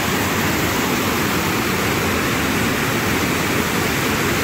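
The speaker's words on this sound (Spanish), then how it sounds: "Ahí son toneladas de agua por minuto." Steady, loud roar of rushing water from a powerful waterfall pouring tons of water per minute, a dense unbroken wash of noise with no voices.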